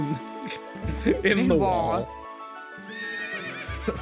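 Epona, the horse in Zelda: Twilight Princess, gives a loud whinnying neigh over game music, followed by hoofbeats, with a person talking briefly over it.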